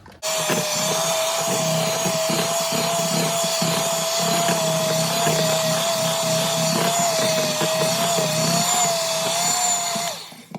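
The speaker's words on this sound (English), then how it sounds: "So I'm only going to give it a very nice whisk." Ingredients for sugar-free, flourless keto peanut butter cookies are whisked in a bowl, heard as a steady, loud motorised whir that runs unbroken for about ten seconds with no talking.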